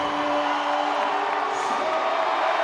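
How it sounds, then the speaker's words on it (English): Crowd cheering and whooping at the 2023 Arnold Strongman Classic, a steady wash of distant arena noise with a sustained tone running under it. "And the crowd are responding."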